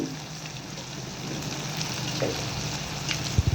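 Fish pieces frying in hot oil give a steady, close sizzle and crackle, with a few sharper pops and bubbling bursts toward the end as another piece is added.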